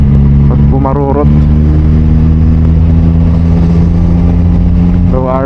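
Yamaha XSR900 2023 motorcycle with a Yoshimura AT2 full exhaust, overheating, idling with a deep low throb close by, someone talking over it throughout.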